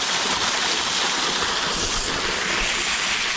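A waterfall pours down a rocky cliff, giving a dense, steady roar of rushing water that fills the scene, close and loud with no voices.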